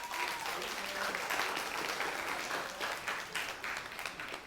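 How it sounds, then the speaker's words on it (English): An audience applauds a woman named Sophia after she is asked to take her seat, the clapping dense and steady for the whole stretch, with a faint voice briefly audible early on. "Let's give Sophia a round of applause."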